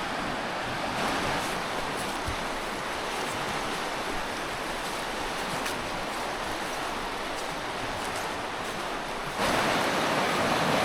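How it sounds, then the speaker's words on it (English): A rain-swollen, fast-flowing river rushing continuously in a strong steady roar, close by, growing a little louder near the end. "We're back at the river. Look how fast that's moving."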